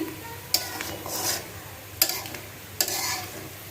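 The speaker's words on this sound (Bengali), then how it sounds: "ভাঙানো সরিষার তেল দিয়ে একদম বাদামি কালার করে ভাজিয়া নিতেছি" Prawns fry in mustard oil, sizzling softly in a pan, punctuated by a few sharp clinks and scrapes of a utensil stirring.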